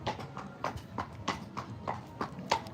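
Horse hooves clip-clop on a road during a gentle ride back through a village in Cartmel, a steady close rhythm of about three footfalls per second.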